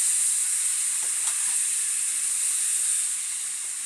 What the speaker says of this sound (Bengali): এবার পেঁয়াজটা ভাজা হয়ে গেছে, তার মধ্যে ম্যারিনেট করা মাংসটা দিয়ে দিচ্ছে।